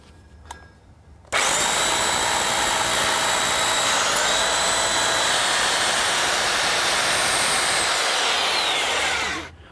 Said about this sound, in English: when we drill through concrete it can be quite noisy